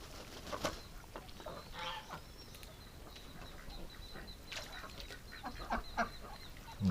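Geese and ducks call in a winter farmyard tub-and-corn setting, a scatter of short honks and quacks rising and falling over seven seconds, fairly close, with no talking.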